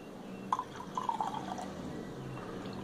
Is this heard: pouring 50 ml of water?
yes